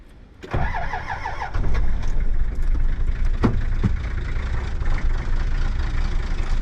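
A four-wheel drive vehicle's engine cranks and catches on a cold morning, then settles into a loud, rough, steady idle close by, with a couple of brief knocks partway through.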